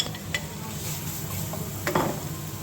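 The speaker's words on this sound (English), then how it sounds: "Start sauteing the onions." Onions sautéing in a pan for Greek pastitsio: a soft, even sizzle with a few light utensil taps and scrapes near the end, fairly quiet and brief, no voices.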